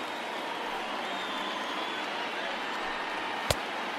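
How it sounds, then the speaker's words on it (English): A steady, dense roar of a stadium crowd of over 39,000 on their feet in the MLB The Show 20 baseball game, continuous and loud, with one sharp crack near the end. "A crowd of over"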